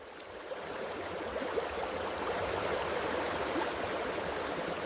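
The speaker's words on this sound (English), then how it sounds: "Close-up of the water flowing around the new rocks." Water trickles and flows around newly placed rocks in a miniature riverbed built for RC excavator dredging, making a soft, steady babbling hiss with no pauses or voices.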